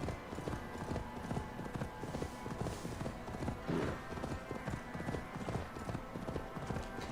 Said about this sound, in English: Come to me, my steed.